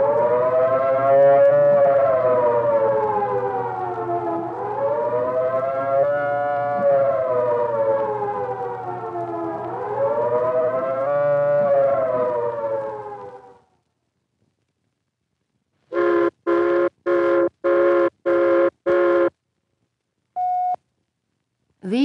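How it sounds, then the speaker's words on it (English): A civil defense take-cover siren sounds a loud, rising and falling warbling tone for about thirteen seconds. Silence follows, then a series of short, evenly spaced blasts and a final brief tone. "The second signal is the take cover signal, a 3-minute warbling tone or series of short blasts like this."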